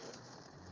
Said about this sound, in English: A lot of rain, a lot of water.